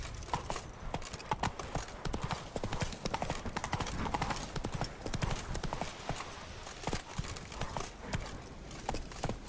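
Horse hooves clip-clop at a steady galloping rhythm in The Witcher 3 video game, loud and close throughout, with occasional faint whinnies in the mix.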